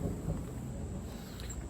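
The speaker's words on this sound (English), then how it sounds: "It's about to storm, so this video may not even get produced." Low, rumbling thunder from an approaching thunderstorm rolls on steadily outdoors, a deep continuous murmur with a faint high whine above it and no clear voices.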